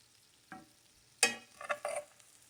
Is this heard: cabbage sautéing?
yes